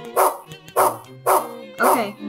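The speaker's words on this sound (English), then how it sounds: "he was barking because all the feathers falling down" A dog in the video game Rule of Rose barking four times in a regular rhythm, sharp, loud and close, with a low background hum between barks.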